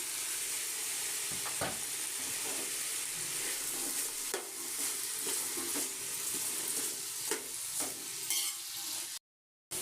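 Chopped tomatoes hit salted vegetables in a hot pan, setting off a steady sizzle with scraping stirs and occasional utensil knocks close by, before the sound cuts out abruptly near the end.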